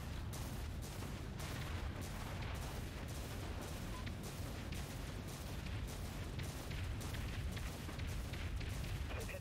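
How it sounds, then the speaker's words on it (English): Spaceship autocannons firing continuously in the sci-fi video game Dreadnought, a dense, steady barrage of rapid booming shots layered over rumbling battle noise, with no speech. "There go the autocannons."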